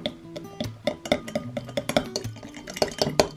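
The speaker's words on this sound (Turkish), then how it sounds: "Bunu biraz karıştırmanız gerekiyor." Cocoa and coffee stirred together with a spoon in a glass, the spoon clinking repeatedly against the sides in a quick irregular rhythm, close and fairly loud with no talking.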